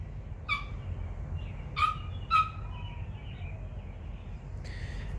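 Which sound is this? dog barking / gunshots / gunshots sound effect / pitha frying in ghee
dog barking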